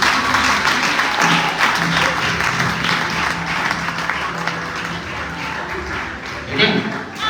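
Applause and cheering fill a French-language prayer service as the congregation acclaims, the clapping loud and dense at first, then thinning a little before rising again near the end, with voices mixed in.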